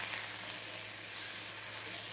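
Sliced potatoes fry in a pan with coriander powder and masala, giving off a steady, close, even sizzle as they are stirred.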